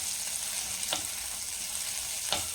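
Dried turkey berries sizzle in hot oil as a steady, close frying hiss, with two brief sharper crackles or stirring scrapes rising from the bubbling.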